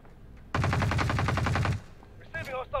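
A loud, close burst of rapid automatic gunfire from a video game lasting just over a second, followed by a short pause and then brief voice sounds.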